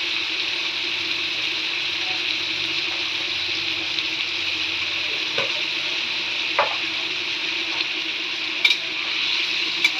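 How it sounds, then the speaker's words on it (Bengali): Potatoes and onions fry in a pan, giving a steady, close hiss of sizzling oil with a few faint clinks and stirring scrapes throughout. "পেঁয়াজের সঙ্গে আলুটা ভাজা হবে"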